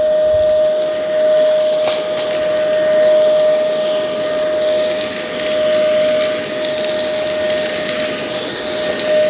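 A Tikom V500 cordless vacuum cleaner sucks up heavy beads, a loud continuous close whir with a steady high whine that swells and dips slightly as it moves, with a few rattling clicks of beads; no talking.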